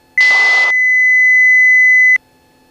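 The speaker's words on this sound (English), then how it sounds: "Makes a loud beep to warn you that it's not flying anymore." An aircraft's autopilot disengage warning sounds as a single loud, steady electronic tone held for about two seconds over a low cabin hum, with a short burst of hiss at its start, then stops cleanly.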